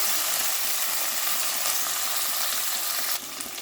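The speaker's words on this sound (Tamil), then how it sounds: "இப்போ நம்ம அரிஞ்சு வச்ச வெங்காயத்தையும் கருவேப்பிலையும் போட்டுடலாம்." Chopped onions and curry leaves sauté in hot oil with cloves for a white vegetable kurma, giving a steady, close sizzle and crackle that drops slightly in intensity near the end.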